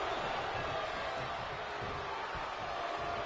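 A wrestling arena crowd roars in a steady, thunderous wall of cheering and noise that holds without a break, dense and loud throughout.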